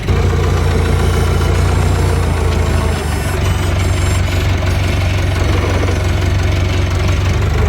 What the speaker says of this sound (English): Here we go, chugging along and chugging along. I love this little tractor.